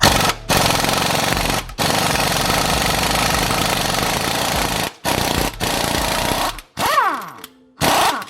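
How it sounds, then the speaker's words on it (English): An impact wrench hammers off the 22mm nut on a lifted Ford F250/F350 front sway bar end link, loud rattling bursts broken by short pauses, ending in quick blips as the nut spins free. "And I'm just gonna impact it off."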